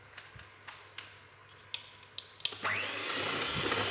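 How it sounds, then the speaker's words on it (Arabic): Electric hand mixer beating lemon cake batter, a few faint taps at first, then the motor whirs up and runs at a steady close hum until the end. "وراح نزيد نضرب هنا مده قليله بالباتور كذلك"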